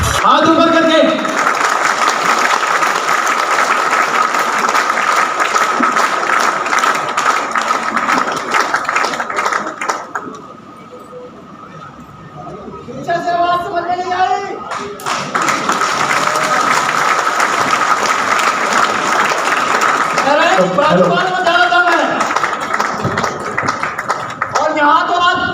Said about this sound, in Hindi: एक बार मैं चाहूंगा सर के लिए जोरदार खतरनाक तालियां, हाथ ऊपर करके